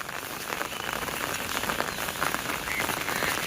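Rain falls steadily on a golden crop field, a dense even patter of drops close around with no talk.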